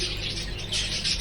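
Newly hatched quail chicks, a first batch of sixty, chirp in a steady, dense chorus of high peeps, fairly close and continuous, with no talk over them.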